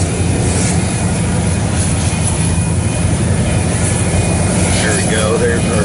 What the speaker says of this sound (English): there's our 9103 working hard to get going